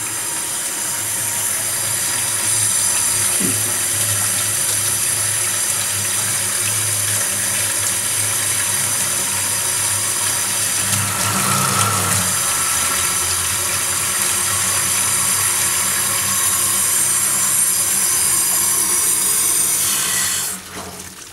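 Water runs steadily from a newly fitted mixer tap with the hot water turned on, a loud continuous close rush that holds for about twenty seconds before easing off at the end.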